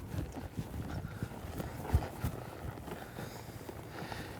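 A horse loping in a riding arena during a flying lead change, its hooves landing in soft, quiet, irregular clip-clop beats with one stronger thud partway through, set against low ambient noise.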